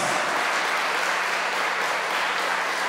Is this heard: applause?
yes